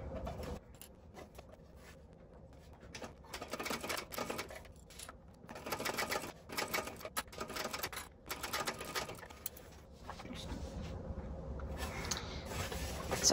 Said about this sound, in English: repeat the same stitching with the same recommended seam allowance all the way along with this piece